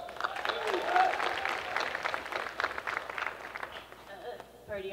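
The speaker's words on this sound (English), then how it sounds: "Give a round of applause." An audience at a Guardians of the Galaxy fan convention panel in San Jose claps in a moderate burst of applause, mixed with crowd noise and talk.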